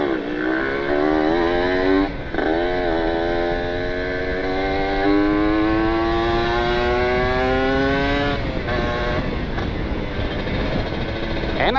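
A Kawasaki Ninja two-stroke motorcycle engine revs loud and close while riding in stop-and-go traffic, its pitch climbing through the gears with short dips between shifts.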